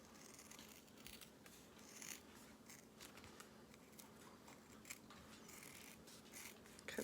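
Scissors snip through vinyl for a sunglasses case in a run of quiet, irregular crisp cuts and rustles, close by with no talking.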